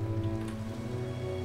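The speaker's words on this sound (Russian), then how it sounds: "Слышь, дождь." Steady rain pattering on a surface in Minecraft, a constant dense hiss over a low, even hum, with no voices.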